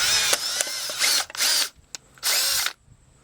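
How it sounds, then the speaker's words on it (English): Power drill boring out a rivet on a Ford Escort AC relay module: several short loud high-pitched whirring bursts with brief pauses and small clicks between them. "Now we have it in actual drill."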